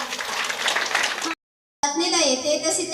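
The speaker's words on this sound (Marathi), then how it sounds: "आपण ही जोरात टाळ्या वाजवून प्रभू येशूला धन्यवाद देऊया" A church congregation at a Christian prayer centre in Kondagaon claps loudly in thanks to Jesus. The dense applause lasts about a second and a half, cuts to silence, then gives way to a voice with tonal sound.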